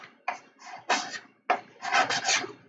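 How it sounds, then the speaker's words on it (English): A card scraper rasps across a wood surface in short, close strokes, roughly six bursts in under three seconds, some brief and some drawn out, with quiet gaps between them. "you take a card scraper and then you would scrape it down this way"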